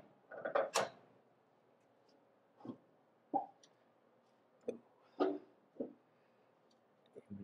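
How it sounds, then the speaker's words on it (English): Body of a 1937 Lincoln Zephyr gives a handful of short, faint creaks and clunks as it is lowered into place, spaced irregularly with quiet gaps between them. "You hear the car creak a little as it finds its new home."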